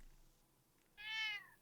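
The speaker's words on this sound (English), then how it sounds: "Oh, I see the sound of a cat." A single short cat meow rises out of near silence, faint and brief, with soft room noise around it.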